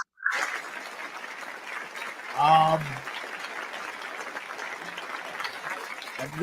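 A comedy show crowd applauds with a steady wash of clapping, while a voice briefly speaks over it partway through.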